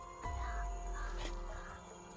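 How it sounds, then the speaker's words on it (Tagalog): A crow caws overhead in an outdoor survival setting, with a few faint harsh calls over a steady low rumble of background noise. "May uwak. Mga tol, inikot-ikutan kami sa ibabaw."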